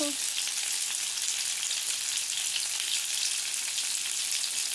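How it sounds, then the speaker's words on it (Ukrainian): Fish sizzles steadily in a hot pan, a constant crackling hiss with no pauses. "ось так смажиться рибка"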